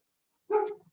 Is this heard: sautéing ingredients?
no